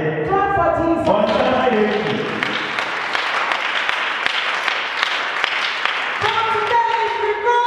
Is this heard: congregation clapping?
yes